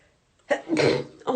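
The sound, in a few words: sneeze from hay fever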